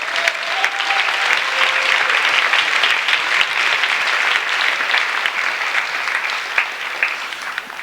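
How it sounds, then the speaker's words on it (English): Loud, sustained applause from an audience at an evening gathering on police violence, continuous dense clapping with a few sharper individual claps standing out, fairly close and unbroken throughout. "Let's give ourselves a round of applause."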